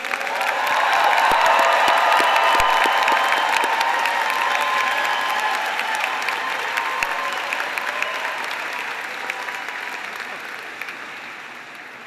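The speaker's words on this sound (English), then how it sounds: "let's give one final round of applause for all of the DNP graduates" Sustained applause from the audience at a Columbia Nursing graduation ceremony honoring DNP nursing graduates, dense and steady for the full length, gradually tapering toward the end, with scattered cheers mixed in.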